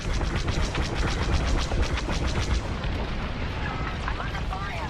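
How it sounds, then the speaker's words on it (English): Laser cannons and blasts from a Star Wars Squadrons space battle against Imperial TIE fighters and a corvette, as a rapid, dense volley of loud shots that thins into rumbling fire, with voices talking over it. "I'm under fire."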